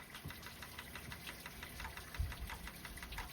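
Twin OMC 460 engines on a Sea Ray Pachanga 32 boat idle with a steady, low knocking rumble and a continuous mechanical drone, moderately quiet, with a slightly stronger thump just past the two-second mark.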